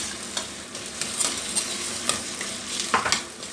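Onions fry in a pan until turning pink, giving a steady soft sizzle with scattered scraping clicks from stirring, heard close and alone.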